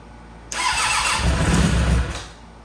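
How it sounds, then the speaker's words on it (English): Suzuki Bandit motorcycle, long abandoned, cranked until the engine catches and roars into a rough, loud idle, steady for about two seconds before fading out, close by and with no talk. "No way, we had a start!"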